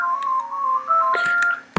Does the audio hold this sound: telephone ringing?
yes